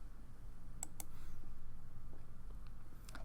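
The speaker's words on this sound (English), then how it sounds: "I'm going to click that and select Files and Folders." A computer mouse clicks an upload button in backup software, giving a few short, sharp clicks near the microphone over a low steady hum, with no talking.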